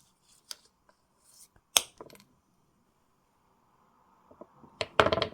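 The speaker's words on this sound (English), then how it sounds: "So we're going to cut this wire at the 2 centimetre mark" Jewellery wire being cut for a small frame bead pendant: a few sharp, faint snips and clicks from cutters, spaced apart, with quiet handling noises and a louder cluster of clicks at the end.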